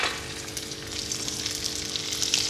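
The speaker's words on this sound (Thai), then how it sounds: "เอาปลาลงไปทอดเลยจ้ะ" Fish frying in a hot pan gives a steady, close crackling sizzle throughout, with no voices.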